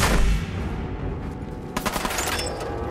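Gunfire in the video game Fallout 4, a heavy shot at the start and then a string of sharp crackling shots later, loud and close with game ambience between.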